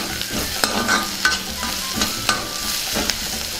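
Spiced mixture with turmeric fries in a pan, a constant close sizzle broken by regular scrapes and knocks of a spoon stirring, roughly one every half second.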